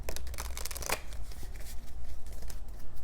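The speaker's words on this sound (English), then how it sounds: "I'm going to pull one more card for that," A deck of tarot cards shuffled up close before another card is pulled, a rapid papery riffling that flutters in quick bursts across the whole moment.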